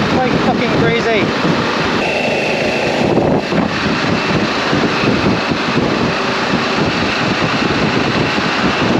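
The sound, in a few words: strong crosswind buffeting on a hilltop motorway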